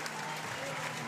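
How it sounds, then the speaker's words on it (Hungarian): Spectators at an athletics meet in Székesfehérvár give a standing ovation after a national record in the 110 m hurdles, a dense, steady wash of clapping with crowd noise and talk mixed in. "Felállva tapsol a közönség"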